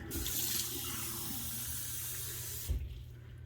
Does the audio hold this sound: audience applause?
no